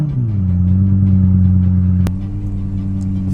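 A Lexus LFA's 4.8-litre V10, which revs to 9000 rpm, runs loud and near with a steady, deep drone. It dips slightly at the outset and settles again partway through.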